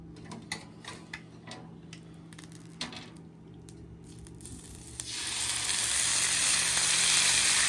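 A whole chicken hits melted tallow skin side down on a Blackstone flat-top griddle, with scattered ticks and taps first, then a sudden loud, steady sizzle that swells and holds to the end.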